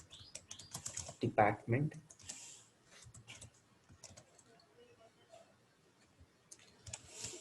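Quiet clicking keystrokes on a computer keyboard while SQL is typed, irregular and close, with a voice speaking briefly early on.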